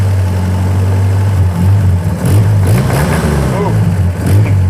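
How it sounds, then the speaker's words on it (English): Willys engine running at light throttle with a rod knock, a loud steady low drone with uneven pulsing under it, heard close up with someone talking over it. "Now, it's only rod knocking a little bit"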